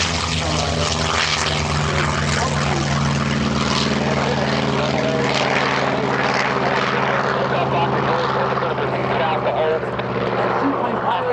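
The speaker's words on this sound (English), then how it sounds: "On the Corsair taking off." A Corsair warbird at EAA AirVenture takes off, its propeller engine a steady loud drone with someone talking over it throughout.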